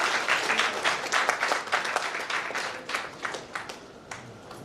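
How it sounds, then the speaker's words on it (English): A crowd at a book launch in Bengaluru breaks into applause, clapping strongly at first and then thinning out, with a few scattered claps trailing off toward the end. "A round of applause, please."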